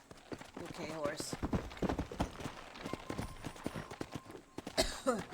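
Rhythmic hoofbeats of a horse galloping in Red Dead Redemption, quick repeated thuds with game sound effects, while a person talks over them intermittently.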